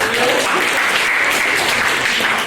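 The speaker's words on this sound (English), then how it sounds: "Let's give them a big round of applause." A crowd at an after-prom hypnotist show gives a big round of applause, dense and steady, with no break for the whole stretch.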